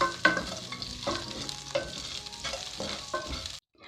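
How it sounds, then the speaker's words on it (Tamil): Green and dried chillies with garlic cloves stir-fry in a pan with mustard and fenugreek, a ladle scraping in irregular strokes over a light sizzle, close and fairly quiet, ending abruptly. "2 மிளகாய், பச்சை மிளகாயும் கூடவே வந்து ஒரு 10 பல் பூண்டு இதையும் வந்து லைட்டாக வதக்கிக்கலாம்."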